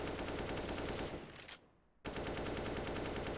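Rapid automatic AK rifle fire in a video game recoil practice drill, a dense, loud stream of shots that stops briefly for about a second, then resumes just as fast.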